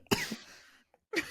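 A sharp, breathy cough bursts out amid laughter, with a second brief cough-laugh near the end, close and fairly quiet with short pauses between.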